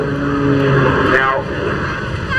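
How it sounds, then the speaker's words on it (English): Jet-powered Pitts aerobatic biplane flying an airshow display, its engine roaring steadily with a rising and falling whine as it passes, loud and continuous with crowd-level voices beneath. "And now it's just the jet engine holding him."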